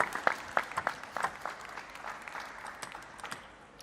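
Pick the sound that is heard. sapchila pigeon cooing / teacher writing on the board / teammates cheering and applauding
teammates cheering and applauding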